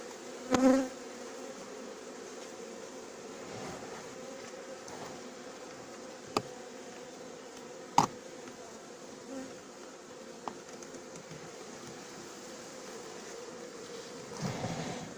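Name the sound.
honeybee swarm buzzing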